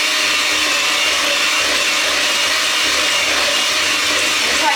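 An electric mixer whirs loudly and steadily as it beats eggs into almond slice batter, running alone for a few seconds without a break.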